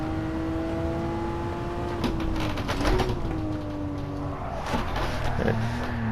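A high-horsepower car drifts on grippy tires in Gran Turismo 7, its engine droning steadily with a rising and falling pitch and some tire scrubbing mixed in. The sound runs continuously and stays fairly close.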